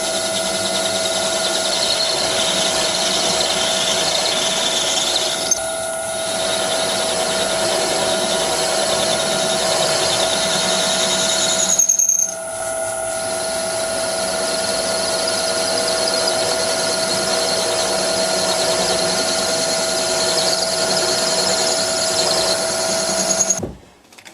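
Metal lathe turning down a bushing to just under 15mm, a steady loud whirring hum with a brief dip partway through and a short break near the middle.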